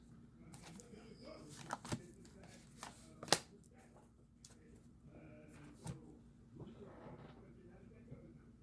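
Tarot cards being shuffled by hand, soft riffling and sharp snaps at irregular intervals, close by with a low hum underneath.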